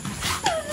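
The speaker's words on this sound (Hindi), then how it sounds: "जंगली कुत्ता ये लो लिखा हुआ है इंडियन वाइल्ड डॉग" Indian wild dog (dhole) at a Gujarat jungle safari gives a short yip or whimper, a rising-then-falling tonal cry amid background chatter and noise; faint talk nearby.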